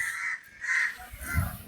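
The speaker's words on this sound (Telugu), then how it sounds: "ఇక్కడైతే కాకిలు మాత్రం చాలా అరుస్తాయి" Crows caw loudly in a few repeated harsh calls from fairly close by, with short gaps between them and a quiet outdoor background.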